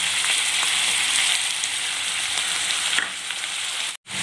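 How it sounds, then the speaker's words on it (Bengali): Vegetables frying in hot oil with soy sauce added, producing a continuous loud sizzle close up that dips briefly near the end. "এই ভাজা যে তেলটা ছিল, এই তেলের মধ্যেই আমি এখন এইগুলো সব দিয়ে দিচ্ছি।"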